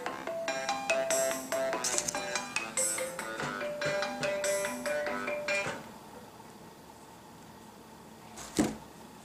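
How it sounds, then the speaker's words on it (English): A phone ringtone from an incoming call plays a bright repeating melodic pattern of close, clear tones for several seconds, then stops, followed by a quieter room and a brief knock near the end. "sorry, I got a phone call."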